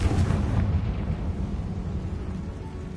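A Confringo fire spell blast in Hogwarts Legacy: a loud, broad burst at the start that rolls into a rumbling explosive decay over three seconds.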